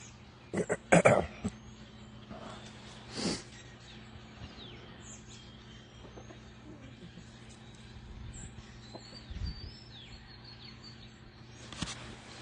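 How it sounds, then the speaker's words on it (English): A flock of birds calls outdoors around sunrise, with scattered faint chirps and tweets over a quiet background and a few louder bursts near the start and end. "It sounds like there's a flock of birds somewhere."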